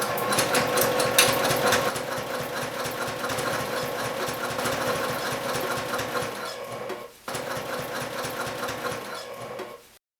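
A sewing machine runs steadily while top stitching a bag with a lengthened stitch, a fast close mechanical chatter that pauses briefly near the end before resuming and then stopping.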